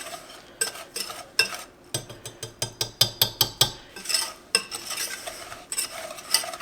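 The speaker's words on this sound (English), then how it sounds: "So I am mixing up the yolks" Egg yolks being whisked with flour, sugar and salt for a coconut cream pie, a run of sharp clinking strokes against a bowl, quickening into a steady rhythm mid-way, close and fairly loud with no talking.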